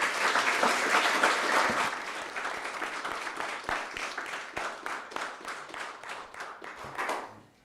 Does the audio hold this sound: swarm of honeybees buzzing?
no